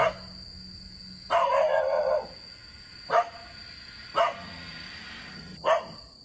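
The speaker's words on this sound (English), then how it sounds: "The dog aggressively growls and barks at something Yama can't see." Dog growling and barking aggressively, a longer harsh bark burst followed by three sharp, spaced barks, fairly close over a faint steady background hum.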